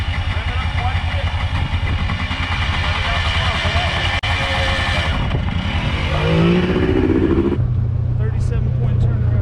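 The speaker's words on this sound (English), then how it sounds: "Pull that clutch. Rev it up quite a bit." Yamaha Banshee ATV engine push-started uphill with the clutch pulled, then revved, loud and continuous close by with rising pitch sweeps and a steadier roar near the end; voices talk over it.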